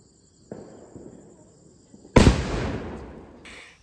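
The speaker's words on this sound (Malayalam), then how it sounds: "പിന്നെ ഞങ്ങൾ നേരെ പടക്കം പൊട്ടിക്കലൊക്കെ ആയിരുന്നു കേട്ടോ." Firecrackers going off at a home Vishu celebration: a soft crackle starts, then one loud sharp bang bursts near the listener and fades into a hissing, crackling tail, with a faint insect-like chirp in the background.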